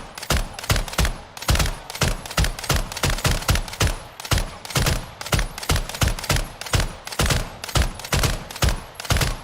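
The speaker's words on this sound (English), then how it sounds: "We're going to feather the rounds right there in the corner" Call of Duty Modern Warfare 3 rifle with a RAAL build fired in feathered short bursts: around twenty loud, close, evenly spaced volleys of rapid shots with brief gaps between them, no talking.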